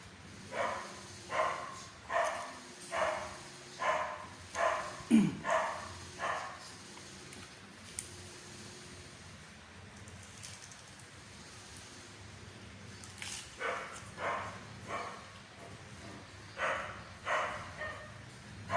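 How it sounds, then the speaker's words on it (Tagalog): Dogs bark at a distance in repeated bursts, a run of steady barks, a lull, then another volley, heard alone in a quiet outdoor space. "Ingay ng aso guys."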